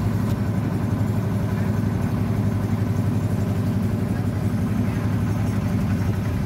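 Ferry engine chugging steadily while crossing Thị Tường lagoon in Cà Mau, a continuous loud low drone with a throbbing hum throughout, no voices over it.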